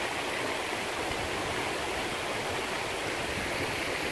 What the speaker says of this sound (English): This is the runoff. One of the runoffs that we have coming through our property.